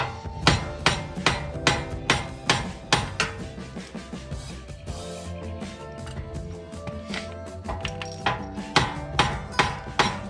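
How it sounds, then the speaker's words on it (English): Hammer tapping a bolt through a suspension part while Eibach springs are installed on a G35, with a series of sharp, ringing metallic strikes in an uneven rhythm, close and loud, with a brief lull midway. "You just give the bolt a couple of taps"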